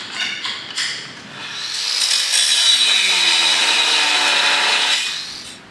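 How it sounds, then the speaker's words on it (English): An angle grinder with a grinding disc works on a steel tow bar, a loud high whine that rises as the disc bites and then holds a harsh grinding roar for several seconds before easing off. "I think I'm going to start with a grinding disc and then finish up with the flap disc"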